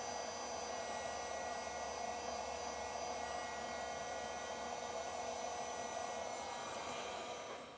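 A heat gun blowing hot air to shrink heat-shrink wire connectors while wiring a disc brake kit on a Grand Design trailer: a steady, even whooshing hum that runs without a break and eases off at the very end, with no voices.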